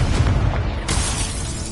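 A Confringo spell blast in Hogwarts Legacy, heard as a loud, rumbling explosion with a second burst near the middle, heavy low boom filling the short moment.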